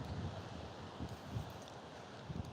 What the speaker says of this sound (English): The wind's just started kicking.